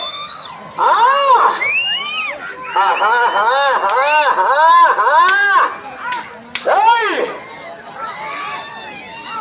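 Audience at a live stage performance shouting and cheering, with loud overlapping yells and whoops that rise and fall in bursts, followed by a short lull before another surge of raised voices.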